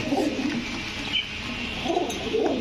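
Pigeons at a pigeon market coo in soft, low, throaty phrases, one near the start and another toward the end, over a faint background hum.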